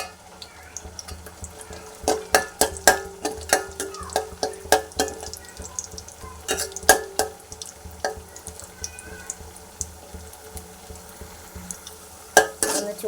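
Cashew nuts sizzle in hot ghee in a pan, with a series of sharp metallic scrapes and taps of a spoon in uneven bursts, then a quieter stretch of steady frying with no talking.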